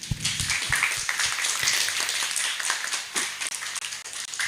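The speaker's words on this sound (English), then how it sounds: "give them a round of applause, please" Audience applause rings out at a township film festival, a steady wash of many hands clapping that fills the space for several seconds, with sharper individual claps near the start and a brief dip near the end.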